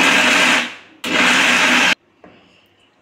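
A kitchen mixer grinder blends jaggery with a little water, whirring loudly in two bursts of just under a second each, then dropping to a faint hum after it stops.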